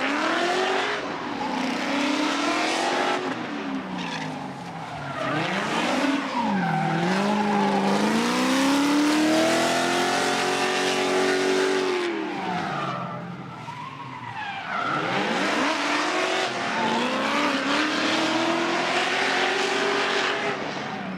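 A Toyota 86 drift car on a solo bye run in a Formula Drift Pro-Spec round, its engine revving hard and rising and falling over continuous loud tire squeal and skidding throughout.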